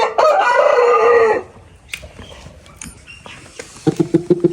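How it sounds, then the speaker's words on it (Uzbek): A rooster crows loudly and close by in one long call, then short clucks and a few sharp clicks follow in a quiet outdoor setting. "Zo'r xo'roz bu, xudo xolasa."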